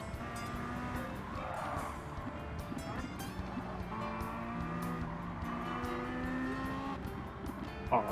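A Porsche 918 Spyder in Gran Turismo 7 gives off a steady, droning engine note with shifting revs and faint tire noise, continuous and moderately loud throughout.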